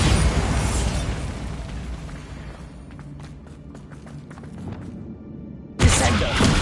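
The Bombarda blasting spell goes off in the Hogwarts Legacy video game: a loud, rumbling explosion that slowly dies away, followed by a second sharp burst near the end.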